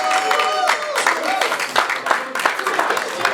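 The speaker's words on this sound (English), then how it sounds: "Everybody's clapping was moderate." A restaurant table audience gives moderate, steady applause, with hand claps running throughout at a fairly even level and voices mixed in underneath.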